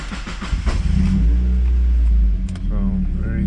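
A turbocharged Mazda Miata engine is cranked and catches, with a brief stuttering crank followed by a deep, loud, close rumble as it starts, then settles into a lower idle.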